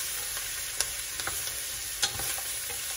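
Vegetables for a butternut squash soup sizzle steadily in a pan, with scattered sharp clicks and scrapes from stirring over the continuous hiss.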